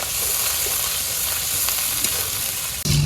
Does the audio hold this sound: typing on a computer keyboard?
no